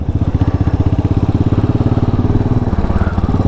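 A Royal Enfield Classic 500 Limited Edition motorcycle being ridden, its single-cylinder engine thumping loudly in a fast, steady pulse close to the rider, with no talk over it.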